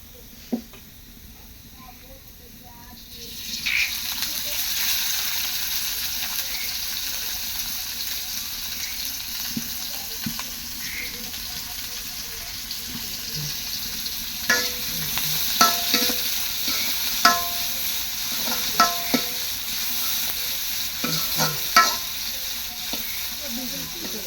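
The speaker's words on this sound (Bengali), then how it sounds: "আমি শাকটা ভাজবো সরিষার তেল দিয়ে" Greens frying in mustard oil: after a few quiet seconds a steady hiss of sizzling begins and continues, with sharp spatula scrapes and clinks from stirring in the later half.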